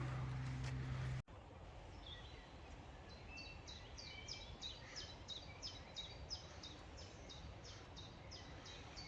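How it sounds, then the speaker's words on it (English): Birds sing along a woodland path on the Cleland Estate, a repeated high chirping phrase over faint outdoor ambience, moderately distant, following a brief loud rumble at the start. "Just the birds."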